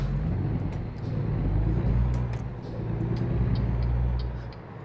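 A heavy truck engine idles and pulls during a hill start in American Truck Simulator, a low steady rumble that swells and eases, with faint hissing bursts above it.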